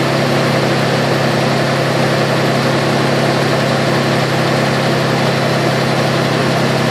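A cold Mitsubishi Galant VR-4 engine idles with a loud, steady, dense rumble that stays even throughout, with no voices.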